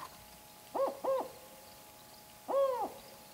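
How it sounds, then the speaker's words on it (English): A Mexican spotted owl hoots in a high forest: two quick clear hoots, a pause, then a longer wavering hoot, moderately near over quiet background. "the hoot that we imitate to try and call the owls in"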